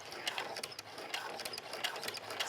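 A sewing machine stitches a small square on a dog leash strap, a fast rattling run of needle strokes, close and steady, with a brief pause for pivoting.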